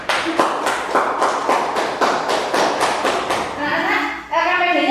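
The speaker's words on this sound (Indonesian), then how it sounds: "Kita kasih tepuk tangan untuk kelompoknya Mas Tian" Children in a classroom clap for a group in quick, rhythmic unison for about four seconds, loud and close, before voices rise at the end.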